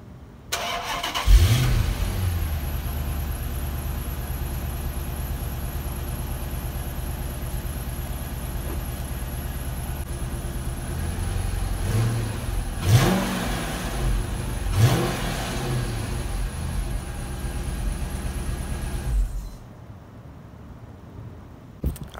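A Chrysler 300 SRT8 with stock exhaust cranks and fires at the start, settles into a steady V8 idle, and gives a few short revs partway through before shutting off. The engine sounds close and fairly loud, and no one speaks.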